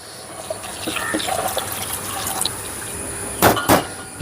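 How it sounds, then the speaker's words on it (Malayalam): Mixed coconut milk pouring into a pot, heard as a soft, steady trickle of liquid that ends in two brief splashing gushes, close by and with no talk. "എല്ലാം മിക്സ് ചേർന്ന പാലാ അതൊഴിച്ചോ"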